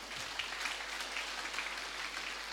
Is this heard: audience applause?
yes